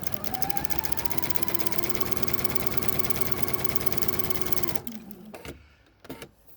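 A sewing machine runs continuously while chain piecing a quilt block, a steady fast mechanical whir and rattle lasting several seconds before stopping abruptly, followed by quieter handling sounds.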